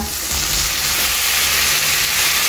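Tomatoes are added to brinjal bharta masala frying in a pan, giving a loud, steady, close sizzle and hiss with no talk.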